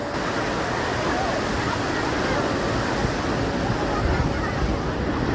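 Sea surf rolls onto the beach at Puri Swargadwar at sunrise, a loud, steady wash of breaking waves mixed with wind rumble on the microphone.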